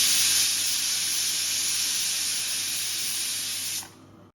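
A pressure cooker steaming bitter gourd in tamarind water releases a loud, sustained hissing whistle of escaping steam that holds steady, then cuts off abruptly near the end, leaving quiet.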